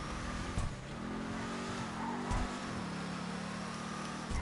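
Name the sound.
Declasse Tahoma Coupe engine revving in video game GTA V Online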